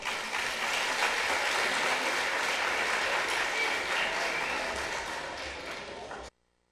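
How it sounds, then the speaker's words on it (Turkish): A hall audience at a 2018 summer Qur'an course opening program gives loud, dense, sustained applause. It continues evenly for about six seconds and then cuts off abruptly. "Yine o güçlü alkışlarınızla."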